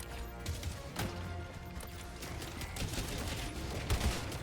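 Gunfire aimed at a Devastator in Helldivers 2, a faint, distant-sounding series of irregular shots and thuds running throughout amid a busy, low combat rumble.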